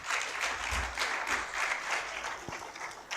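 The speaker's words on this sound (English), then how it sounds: "let's clap for our panel again." A conference audience applauds a panel, steady clapping at moderate level throughout the few seconds, from a fairly distant room.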